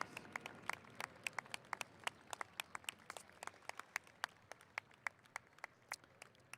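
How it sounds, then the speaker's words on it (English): Scattered hand claps from a racetrack crowd applauding trainer Roger Attfield as he walks onto the E.P. Taylor Turf Course at Woodbine; sparse, distant, fairly faint claps in an uneven rhythm over low outdoor ambience. "Let's give him a big round of applause as Roger Atfield makes his way on to the EP Taylor Turf Course."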